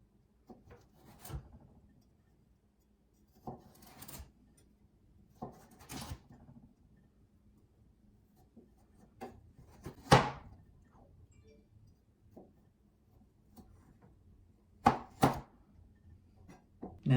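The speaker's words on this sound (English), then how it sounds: "you're going to slice about 1/8 of an inch into each carrot" A knife slices carrots on a cutting board in a quiet kitchen, giving sparse, separate thunks and short scraping cuts spaced a few seconds apart, faint and close, with no talking.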